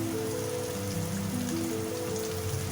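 Two cut onions frying in a pan after the food was browned, a continuous close hiss and crackle of hot oil with a low hum underneath, no speech.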